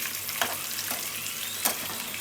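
Chicken fries in hot oil in a home kitchen, a steady close sizzle with faint crackles and a few soft scrapes as the pieces are moved around.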